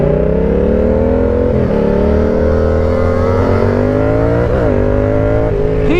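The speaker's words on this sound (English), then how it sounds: "That man's burning that clutch." A sport motorcycle engine, ridden alongside a Yamaha R7 and R3, drones loud and close, its pitch rising and dipping in uneven surges as the rider slips the clutch, with steady wind rush underneath.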